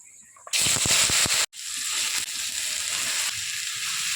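Pre-cut vegetables are tipped into hot oil with five-spice seeds for a Bengali vegetarian chorchori. A sudden loud crackling burst is followed by a short clattering thud, then a steady, softer sizzle that carries on to the end.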